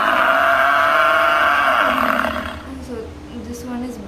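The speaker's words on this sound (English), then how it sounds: "So this one is buffalo." Buffalo call played from an animal AR app, a loud sustained bellowing roar that fades out after a couple of seconds, followed by a quieter tail of low sound.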